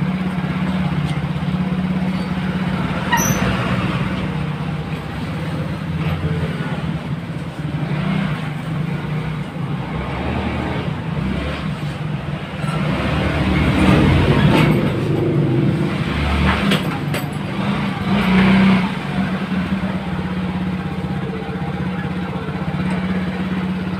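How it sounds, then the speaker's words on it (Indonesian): A Yamaha Mio J scooter climbs a slight uphill slope in front of a repair shop, its small engine droning steadily with swelling surges of throttle amid road and background noise. "kita coba dulu motor ini buat nanjak itu di depan bengkel,"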